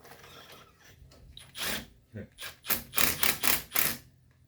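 Socket wrench ratcheting during a 2012 Honda Civic front wheel bearing replacement, a run of close, crisp clicking bursts that quicken into a rapid series, with a short thud in between.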